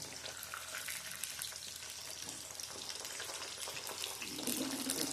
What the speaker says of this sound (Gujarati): હવે આને એકદમ ફ્રાય થઈ જાય ત્યાં સુધી આપણે આને તળવાના છે